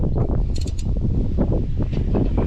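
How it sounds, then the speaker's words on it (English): Socket wrench ratcheting steadily as a bolt is tightened, a rapid run of close mechanical clicks repeating throughout with no talk. "So Ransom's going to use the socket wrench and I'll hold it at the top."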